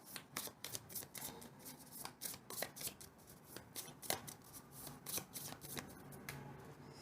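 Tarot cards are shuffled and drawn by hand, close riffling and snapping in quick uneven bursts, with soft taps and slides between them and no talking.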